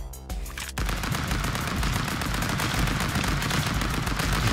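Gunfire from the stick-figure brawler Stick Fight, a sharp initial shot followed by a dense, continuous burst of rapid shots that stays loud and steady to the end, with no talking.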